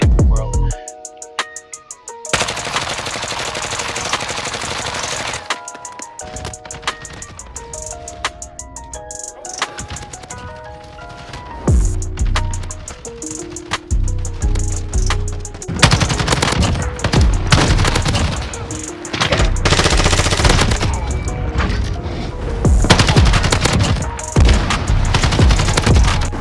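Gunfire from Call of Duty Warzone, with loud bursts of rapid automatic fire broken by short pauses, layered over game music, with a few faint words of talk.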